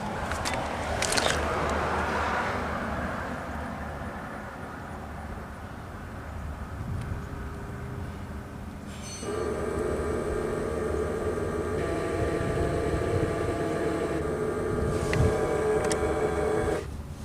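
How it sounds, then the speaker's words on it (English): A GM truck's EBS ABS pump motor running during an actuation test: a steady mechanical drone, with a tonal, whining hum rising in the second half as the motor runs continuously, close and without talk. "EBS pump motor."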